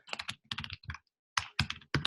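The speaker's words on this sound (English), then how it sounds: "I'm going to type these for you guys." Keystrokes clatter on a computer keyboard in quick close bursts, pausing near the middle before a second run of typing, with no voices.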